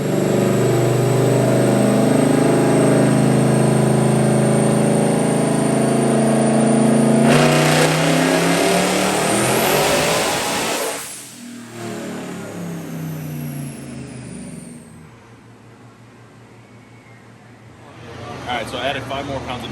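Twin-turbo engine in a 1932 Ford winding up hard on a dynamometer pull, a loud sustained rising roar that cuts off and drops to a lower idle, with people talking around it.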